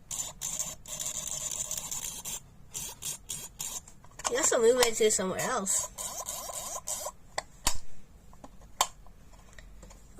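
Split magnet pieces slid and moved against each other to make a funny cartoon-like sound, a brief warbling squeak in the middle amid scattered clicks and handling rattles, close by, with a voice speaking briefly.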